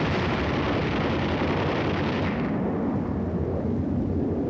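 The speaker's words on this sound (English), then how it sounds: "you saw all those like secondary explosions in that burst" Korean War combat explosions and artillery bursts rumble in a loud, continuous barrage, heavy low booms rolling together before the sharper crackle fades midway, leaving a deep rumble.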